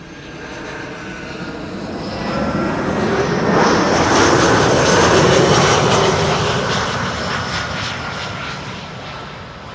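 An Austrian-registered Airbus A319, fourteen years old, arrives at Schiphol on the Kaagbaan runway, a broad jet roar swelling to a loud peak mid-pass and then slowly fading.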